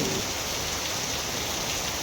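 Steady, dense monsoon rain in Mumbai hisses continuously on a hard surface, close and fairly loud, with no pauses or other sounds.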